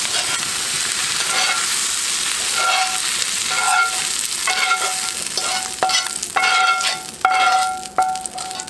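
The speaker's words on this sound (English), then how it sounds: "I think my onions are ready, and I'm just going to put them over into the tagine." Onions sizzling and frying, with sharp metallic clinks of a utensil scraping and stirring as they are moved into a beef tagine; a steady loud hiss with irregular taps that grow more frequent toward the end, no talking.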